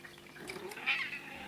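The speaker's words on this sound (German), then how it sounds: "die Katze beschwert sich" A cat meows and complains in a short, rising plaintive cry, fairly faint, indoors during a frozen chicken meal tasting.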